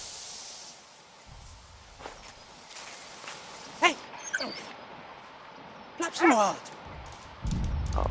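Walt the dog in Valiant Hearts: The Great War gives a few short, sharp barks and whimpers partway through, close and fairly quiet under faint background hiss and game ambience.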